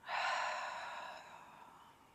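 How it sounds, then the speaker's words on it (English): A person in yoga camel pose lets out one big breath, a close, airy exhale that starts strong and fades steadily over about two seconds. "Big breath out."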